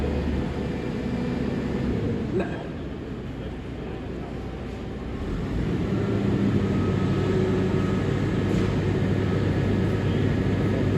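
A JCB Loadall 542-70 Agri Pro telehandler engine hums at raised revs around 1500 RPM, a steady, close, low drone that dips briefly and then rises again and holds.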